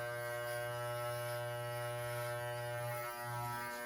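Electric hair clippers buzzing steadily up close while cutting a home fade haircut, a constant quiet motor hum with a slight change near the end, no talking.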